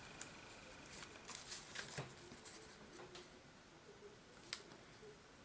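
Quiet, close snips of scissors trimming a paper card for a doily dress card, a few light crisp cuts spread over a soft background.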